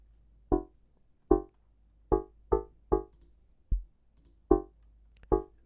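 An FM synth patch in the Vital synthesizer plays eight short plucked notes in a bouncy, uneven rhythm, each a quick bright attack with fast decay, alone over near silence.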